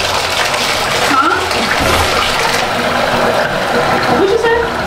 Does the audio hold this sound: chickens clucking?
no